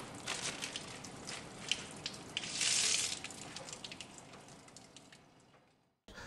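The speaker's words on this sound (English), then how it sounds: "Wash your hands with warm water and put soap on them." Warm tap water runs into a sink while hands are washed, a continuous splashing rush that swells briefly in the middle, then thins out before the flow cuts off near the end.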